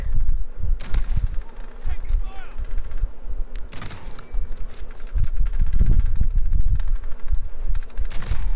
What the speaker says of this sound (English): Oh, it's the decoy grenades.